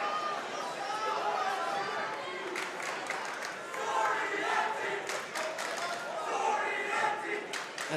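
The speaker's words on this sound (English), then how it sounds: "a Soriente chant has broken out for the Caldwell home crowd" Home crowd at a Caldwell varsity boys wrestling dual meet chanting a wrestler's name, a rhythmic massed chant over gym chatter with sharp thumps and claps from the mat, busy and fairly loud throughout.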